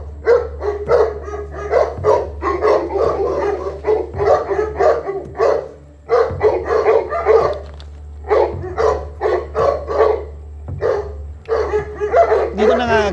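A large Kangal dog named Eminem barks repeatedly up close in the mountains, the deep woofs mixed with yips and whines, while people talk in between.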